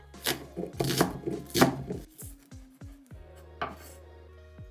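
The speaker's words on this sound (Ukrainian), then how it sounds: "Нарізаємо цибульку нашу." A knife chops through onion on a board in several quick, crisp strokes, close and fairly loud, with short pauses and lighter taps between.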